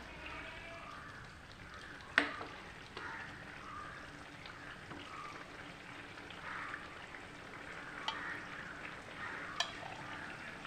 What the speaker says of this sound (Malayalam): മീൻ ഇട്ട് കൊടുത്തിട്ടുണ്ട് നമുക്കൊന്ന് ഇളക്കി കൊടുക്കാം